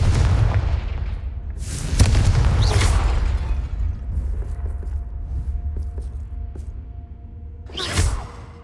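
A Confringo blasting spell goes off in the Hogwarts Legacy video game: loud whooshing bursts with booming impacts, two close together early and another near the end, over a rumbling low background.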